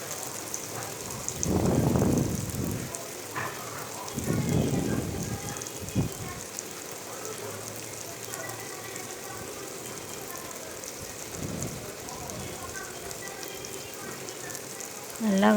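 Onions and spices sautéing in a pot for Hyderabad-style vadi biryani give a steady soft sizzle, with a few louder stirring bursts and clatters early on, no talk.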